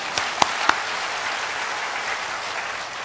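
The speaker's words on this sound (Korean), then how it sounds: "하나님께 영광의 박수 드리겠습니다" Church congregation applauding to give glory to God during a missionary's testimony, a continuous wash of clapping with a couple of sharp louder claps near the start.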